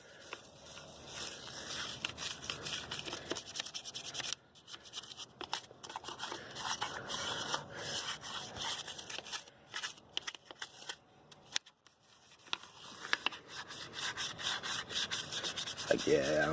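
A brush scrubs caked brake dust off a car wheel in steady back-and-forth strokes, a close, dry rasping with brief pauses between passes.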